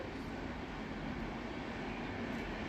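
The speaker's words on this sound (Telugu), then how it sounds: "నాకు మధ్య మధ్యలో ఈ ట్రైన్ సౌండ్స్ అయితే వస్తున్నాయండి." A continuous low rumble of a train passing at a distance, steady and unbroken throughout, with no voices.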